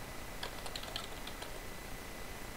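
Light keystrokes on a computer keyboard typing a short command into Minecraft, a few quick clicks clustered in the first second and a half over steady background hiss, then quiet.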